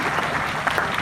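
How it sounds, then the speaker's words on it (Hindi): A dense burst of audience applause fills the hall at a Hindi poetry recital (kavi sammelan) in Sujangarh, steady and close throughout with no voices over it. "तो जोरदार तालियां बजाओ"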